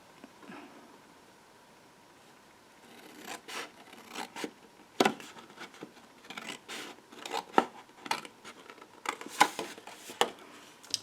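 Scissors snipping through stiff cardstock, a series of sharp crisp cuts coming in irregular bursts after a quiet start, close and fairly faint.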